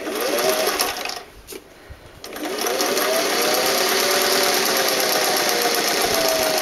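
Sewing machine stitching a summer dress, a loud close steady whir with a quick needle rhythm that briefly slows and pauses before running continuously again.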